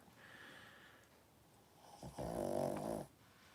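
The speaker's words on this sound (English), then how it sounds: "That's my dog." A dog snoring close by, a faint soft inhale early on followed by a louder, rasping snort-like snore lasting about a second, with no talking.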